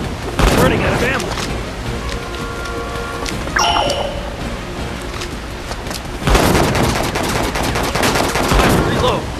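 Gunfire from the disaster-survival video game Disaster: Day of Crisis crackles in rapid, dense bursts, loud at the start and again after a quieter stretch with a few sharp electronic tones in between.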